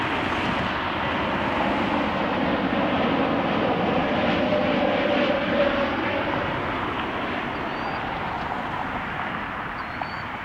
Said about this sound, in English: Inbound from Fort Lauderdale, we have Frontier 3735, Wilhelm the Stellar's Eider livery, Airbus